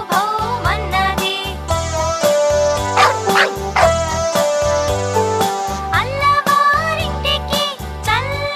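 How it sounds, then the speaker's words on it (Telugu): A dog's bow-wow barks sound in short bursts within a bright, rhythmic children's song, standing out over the steady music with no spoken voices. "అల్లవారి కుక్క భౌ భౌ మన్నది"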